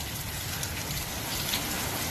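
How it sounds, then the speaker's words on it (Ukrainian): Heavy rain pours down during an all-day downpour, a steady, dense hiss of water that runs unbroken from start to finish with no voices. "Цілий день заливає нас дощем."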